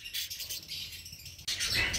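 Pet birds in an exotic pet shop, among them a pair of active Java sparrows, chirp and tweet in a busy overlapping chorus. The calling swells louder near the end.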